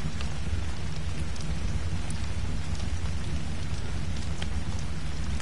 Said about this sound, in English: Please stop raining, game.